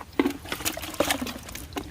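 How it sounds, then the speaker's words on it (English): Liquid clay slurry poured from a small pot onto a sandy garden bed, a close, wet splashing trickle with a couple of heavier gushes over about two seconds. "to take the liquid, the slurry of clay, and then water it in where you've created the opening"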